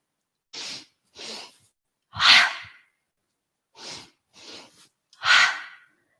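Forceful breaths pushed out through the mouth during a hatha yoga relaxation practice, six sharp whooshing exhales in pairs, the third and sixth louder and longer, with silence between them and no talk.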